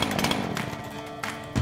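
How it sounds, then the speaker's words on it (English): A chainsaw in the video game Rust cuts into a tree, a loud, continuous buzzing with brief surges, alone without talk. "So I'm gonna go and completely destroy it with this chainsaw."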